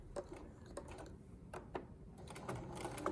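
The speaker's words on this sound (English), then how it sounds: "I'm going to stitch over the teeth right up to the seam," A sewing machine stitches over the teeth of a lapped zipper up to the seam, with faint, irregular clicking and ticking bursts close by and no voice.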